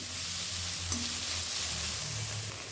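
Chopped green chillies go into a pan of frying vegetables, giving a steady close sizzle with faint stirring scrapes throughout, no voices.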